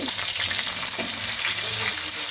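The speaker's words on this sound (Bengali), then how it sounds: "মাছগুলো এক পিঠ হয়ে গেলে পরে আমি অপর পিঠ উল্টিয়ে দেবো।" Continuous crackling sizzle of koi fish frying in hot oil, with a faint scrape and shift as pieces are flipped in the pan.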